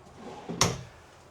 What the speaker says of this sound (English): And then you have just a plethora of drawers here, nice, deep.